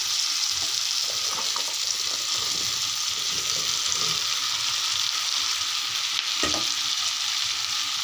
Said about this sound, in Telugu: వీటిని కొంచెం బాగా ఫ్రై చేసేసుకోవాలి